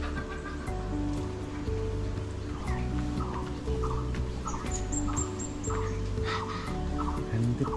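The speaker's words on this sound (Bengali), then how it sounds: "এখানে প্রচুর পাখির ডাক শুনতে পাচ্ছি।" Many birds call around a forested homestay with a bird hide at Rongtong in Mahananda Wildlife Sanctuary, North Bengal, layering chirps and whistles, some gobble-like calls, over a steady outdoor background.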